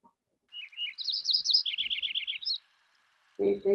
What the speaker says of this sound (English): So let's listen to the Lincoln Sparrow just really briefly.